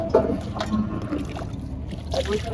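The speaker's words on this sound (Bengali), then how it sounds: "পানি দিয়ে হালকা ধুয়ে নিলাম" Water rinsing a large, freshly cleaned fish before it is cut for fish pulao, a continuous splashing and sloshing wash with small surges throughout.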